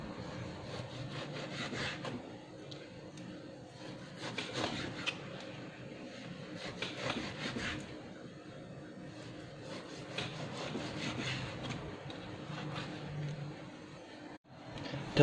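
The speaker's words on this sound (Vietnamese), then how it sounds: "Thì xắt thịt bò mình sẽ xắt ngược xớ." A knife slices thin strips of beef across the grain on a cutting board, giving repeated soft scraping strokes in bursts, quiet and close, with a sharp knock at the end.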